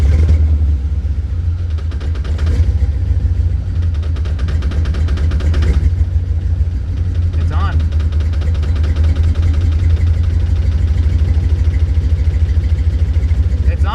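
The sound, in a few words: C4 Corvette engine starting and idling after 12 years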